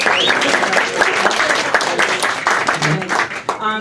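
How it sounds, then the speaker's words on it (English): Comedy club crowd at The Stand clapping loudly for a stand-up comic, dense sustained applause close up that tapers at the end, with scattered cheers mixed in. "That's when you all clap"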